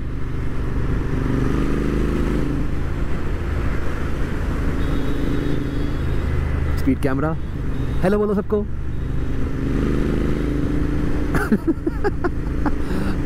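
A Royal Enfield Interceptor 650 cruises along with a steady, loud engine drone and rushing wind noise throughout, while someone talks and laughs over it.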